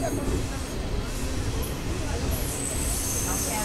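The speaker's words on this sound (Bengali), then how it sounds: "ছেড়ে দিল আমাদের ট্রেন ধানদারি কালান স্টেশন থেকে" Train pulling away from Dhandari Kalan station in fog, a steady broadband rumble of wheels and carriages running continuously throughout, with a voice speaking over it.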